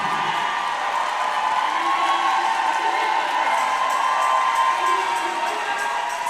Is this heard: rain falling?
no